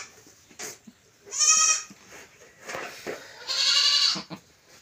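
A she-goat in a farm shed bleats twice, loudly and close. Quiet pauses and faint rustling come between the two drawn-out cries.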